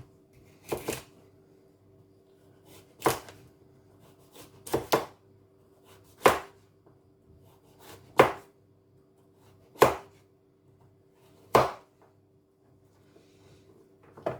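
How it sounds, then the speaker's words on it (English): Washed coconut is diced with a knife for Jamaican coconut drops, producing sharp, isolated chops on a cutting board spaced every second or two, close and crisp against a quiet background. "Then I'm going to be dicing them up"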